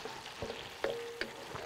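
Pork belly, pepper and garlic fry in oil in a pan for Spanish migas, giving a faint, steady sizzle with a few soft stirring clicks and scrapes.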